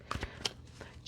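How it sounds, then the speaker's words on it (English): Gilded Tarot cards by Ciro Marchetti being shuffled by hand: a few quick, soft riffling and slapping bursts of card stock, close and fairly quiet, over a brief second. "just going to shuffle here the Gilded Tarot by Ciro Marchetti"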